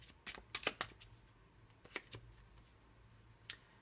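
Love oracle cards being shuffled by hand, a few crisp riffling bursts close up and quiet, with soft rustles and a last flick in near silence.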